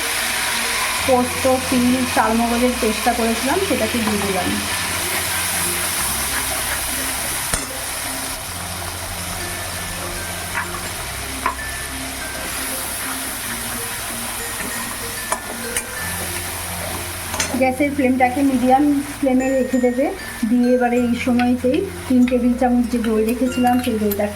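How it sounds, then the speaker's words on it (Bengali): Cumin, coriander and salt paste fried in oil in a pan for a Bengali doi potol dish, giving a continuous close sizzle with scraping stirring strokes. The frying grows louder and busier toward the end. "দিয়ে কয়েক সেকেন্ড একটু নাড়াচাড়া করে নেব"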